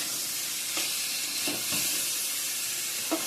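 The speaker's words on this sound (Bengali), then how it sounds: "চিংড়া ভাজা করব" Prawns frying in a pan, giving a steady broad sizzle with a few soft stirring scrapes over about three seconds, moderately loud and with no voices.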